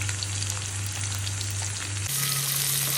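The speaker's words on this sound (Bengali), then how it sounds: "প্রথমে আমি কড়াইতে তেল দিয়ে দিয়েছি और আলুটাকে ভালোভাবে ভেজে নেব।" Steady, loud sizzling and crackling of potatoes frying in hot oil in a wok, continuous throughout with a constant hum underneath and no voices.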